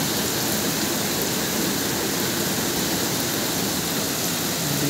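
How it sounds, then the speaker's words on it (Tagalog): Heavy rain pours down steadily during Typhoon Enteng at a flooded house, a loud, unbroken roar of downpour with no pauses and no voices. "Pero kami, ayan, lakas pa rin ang ulan."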